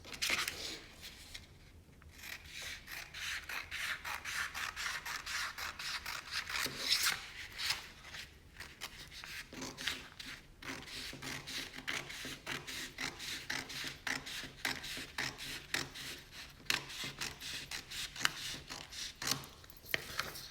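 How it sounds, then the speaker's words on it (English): Scissors cut lining pieces from fabric with a continuous run of close, quiet snipping and rubbing, the blades closing in a fast irregular rhythm for about twenty seconds, with no one speaking. "And cut it out."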